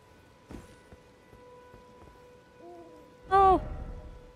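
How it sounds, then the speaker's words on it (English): An owl hoots in the video game Elden Ring, a soft low call followed by a louder, clearer hoot near the end, over quiet ambient game sound with faint taps. "I hear an owl."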